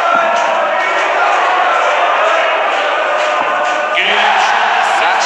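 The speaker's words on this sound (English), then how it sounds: "listen to the crowd here in Hildesheim" A large indoor darts crowd in Hildesheim roars and cheers continuously, a loud, sustained wall of voices that surges slightly near the end.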